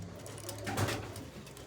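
A pigeon coos softly nearby in a loft of birds being readied for release, a single low rolling call swelling briefly in the middle against quiet background noise, with no talking.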